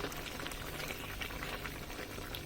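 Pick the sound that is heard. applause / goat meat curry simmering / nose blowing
goat meat curry simmering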